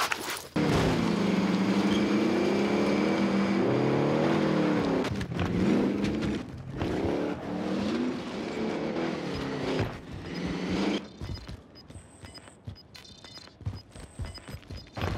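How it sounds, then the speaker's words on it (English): A car in the Call of Duty Warzone (Cold War season 2) video game drives with a loud, rising and falling engine drone for about ten seconds, then fades to quieter rumbling with faint game beeps. "I drove the car right in."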